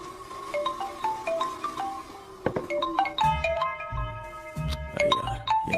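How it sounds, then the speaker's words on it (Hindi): A phone ringtone plays an incoming-call melody of bright repeating tones, building into a fuller layered tune with rhythmic low pulses, close and clear with no talking. "अरे यार ये अभी क्यों फोन लगा रहा है?"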